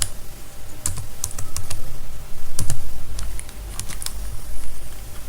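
Typing on a computer keyboard while a website page title is edited, with bursts of close, crisp key clicks separated by brief pauses over a low room rumble.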